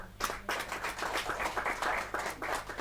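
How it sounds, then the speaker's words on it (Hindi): A crowd at a Hindi kavi sammelan poetry gathering breaks into brief, dense handclapping that rises quickly and carries on evenly at moderate volume, with no talking over it. "जोरदार तालियां।"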